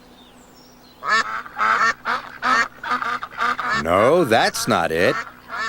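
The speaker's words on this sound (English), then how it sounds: "A family of ducks." A family of ducks quacks in a quick run of loud, close honking calls, the last few longer and more drawn out, with a voice briefly speaking over them.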